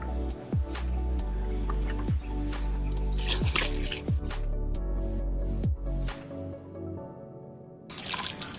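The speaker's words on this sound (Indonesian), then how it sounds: "untuk selanjutnya tinggal kita siram saja" Water is poured onto a newly planted aglaonema in a polybag, giving a run of distinct drips and splashes at irregular intervals over a continuous low wash, close and fairly loud, ending in a brief trickle.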